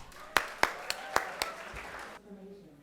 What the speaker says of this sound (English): Huge round of applause for Temi,